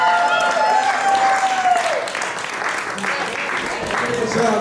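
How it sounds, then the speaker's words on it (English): Wedding guests applaud the couple with sustained, fairly loud clapping from a crowd, with music and a voice underneath. "Let's give them a big round of applause"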